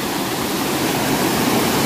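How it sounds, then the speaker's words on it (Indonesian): A small waterfall in a Sundanese village pours with a steady, dense rushing roar, close and constant throughout, with no voices over it. "Tuh ada curug juga, curug."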